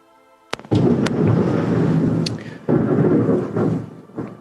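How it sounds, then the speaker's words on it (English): Thunder rumbles in two heavy, loud rolling peals, each opening with a sharp crack and fading into a long low roar, heard alone without voices. "Can you guys hear all that thunder?"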